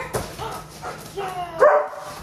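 Dogs at a dog park give a few short, separate barks and yips at moderate distance, each one brief with quiet ambient noise between them.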